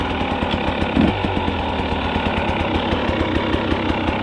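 Husqvarna 300 TEi two-stroke motorcycle engine running close and loud with a steady rapid pulsing beat that rises briefly near the start, no speech heard.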